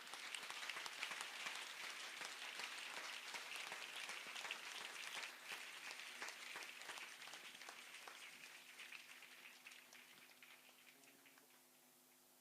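Church congregation applauding at a prayer meeting in Gabon, dense steady clapping throughout that slowly thins and fades toward the end, with no talk over it.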